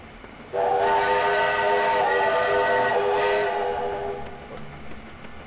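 A sustained steam train whistle in the video game Sniper Elite V2 blows loudly and steadily for about four seconds, then cuts off, leaving a low rumbling background.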